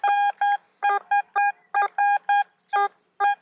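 A Vista X metal detector sounds its signal tone as a string of about eleven short, bright electronic beeps in an uneven rhythm. The beeps are close, clear and alone, with near silence between them.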